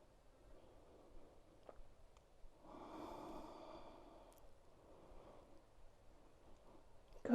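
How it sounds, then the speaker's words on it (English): A single slow inhale during a yoga class, lying with the head turned to the side: a soft, breathy rush of air that swells for about two seconds in a quiet room. "Take a breath."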